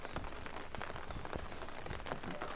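Rain falls steadily in a village setting, a dense, even patter of drops on surfaces heard up close, with no speech.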